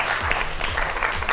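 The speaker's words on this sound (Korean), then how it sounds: "박수로 맞이해 주십시오" An audience at a Korean science talk event claps to welcome two guests onto the stage, a dense, continuous patter of applause filling the room for a moment.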